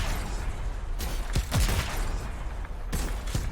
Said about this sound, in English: which is this like super rocket launcher.